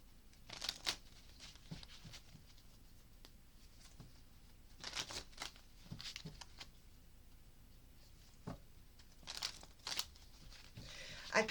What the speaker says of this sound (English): we're going to go ahead and shuffle the Witch's Tarot now and cut them